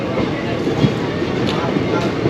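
A train moves along with a continuous heavy rumble and faint rhythmic clatter, close and loud, steady from start to finish.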